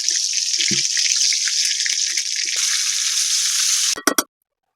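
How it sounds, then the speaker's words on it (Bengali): Chela fish fries in a pan with a loud, steady bright sizzle and a few stirring knocks, then the hiss cuts off abruptly into silence after a couple of sharp clatters. "মাছটা ভেজে নেব"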